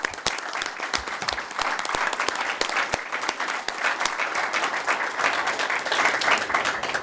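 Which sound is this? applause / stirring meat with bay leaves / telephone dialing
applause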